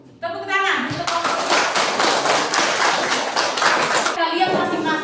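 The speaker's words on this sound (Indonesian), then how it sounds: "Tepuk tangan untuk" Classroom applause after a student presentation, a dense burst of many hands clapping that starts abruptly and holds steady and loud for about four seconds before thinning out.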